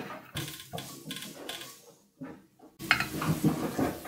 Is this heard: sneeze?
no